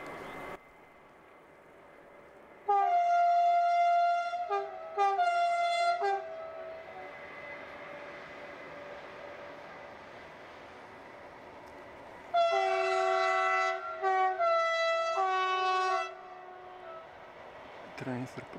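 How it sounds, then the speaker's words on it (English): A train horn blares in long harmonic blasts, two bursts early and two more later, over steady rumbling rail noise close by, near a railway crossing in Deva, Romania. "Trains are pretty loud here."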